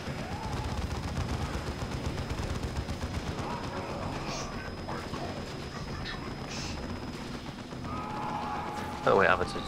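Gunfire crackles in a Warhammer 40,000: Dawn of War II battle, where a plasma cannon charges and fires. Scattered shots run under steady talk, and a sharp, loud burst lands near the end.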